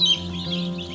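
Young meat chickens cluck and chirp softly at close range in a short, continuous burst, with a steady low hum of the brooder or barn behind them.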